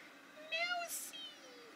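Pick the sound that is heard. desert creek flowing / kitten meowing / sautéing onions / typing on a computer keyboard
kitten meowing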